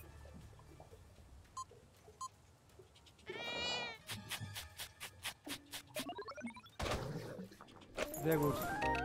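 A cat meows in the Echo Generation video game, several short cries scattered among game sound effects, booms and background chatter, moderately loud.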